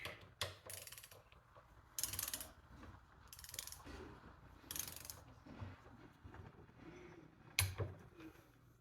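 Torque wrench ratcheting while tightening a Ford 8 inch rear end to 20 foot-pounds, a series of close, quiet mechanical clicks and sharp ratchet strokes coming in short, uneven bursts.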